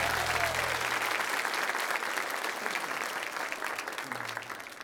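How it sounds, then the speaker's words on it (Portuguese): A church congregation at a Portuguese-language Sunday worship service gives a round of applause, a dense and sustained sheet of clapping under low organ-like tones. "Vamos dar uma salva de palmas para Jesus."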